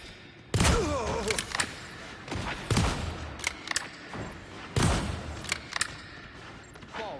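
Sniper and automatic gunfire in a video game: sharp, loud shots crack out irregularly, some singly and some in quick bursts, over mechanical clatter and low thuds.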